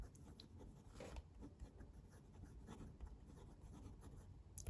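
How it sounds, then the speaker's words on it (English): Fountain pen with a 14 karat gold fine medium nib, a Pilot Custom Heritage 92, scratches softly across Clairefontaine paper, giving faint continuous rubbing strokes in a quiet room. "Have some Clairefontaine paper here. Going to do a writing sample now."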